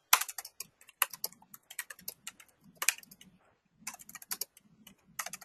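Bursts of quick keystrokes on a computer keyboard while a note is written, close and fairly quiet, with short pauses between runs of typing.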